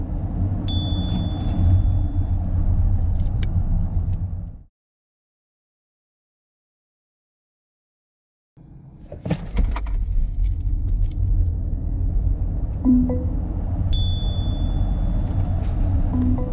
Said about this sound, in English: So let's first do the 0 to 100 km speed test